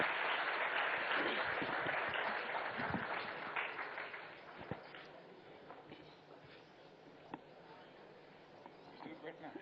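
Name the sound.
audience applause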